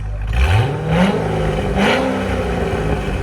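A 2007 Chevy Corvette Z06 7.0L V8 on its stock exhaust revs up twice in quick bursts, a deep throaty roar rising and settling close by, with no talking.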